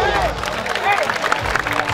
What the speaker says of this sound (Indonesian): Semangat, tepuk tangan untuk kalian semuanya.